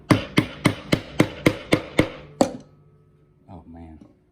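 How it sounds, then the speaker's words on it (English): A wooden mallet striking a chisel in hand-cut angled mortise work, eight sharp evenly spaced knocks, then a clunk as the mallet is set down, followed by a brief low voice. "I just set my mallet down right on my chisel"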